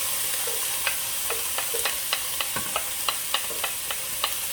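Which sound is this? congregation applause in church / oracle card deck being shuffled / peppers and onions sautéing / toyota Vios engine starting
peppers and onions sautéing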